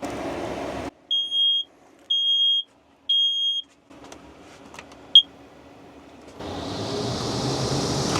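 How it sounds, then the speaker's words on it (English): Three evenly spaced, piercing electronic beeps from a smoke alarm, followed by a few faint clicks and a rising rush of noise. "Set the fire alarm off there for a minute."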